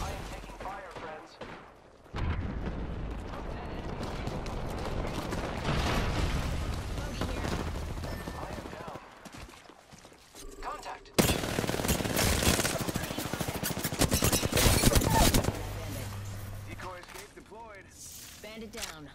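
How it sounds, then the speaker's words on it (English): Automatic gunfire rattles in long, dense bursts during a match of the video game Apex Legends, with a lull midway before a louder close-range volley, while players talk over the shooting. "I am taking fire, friends."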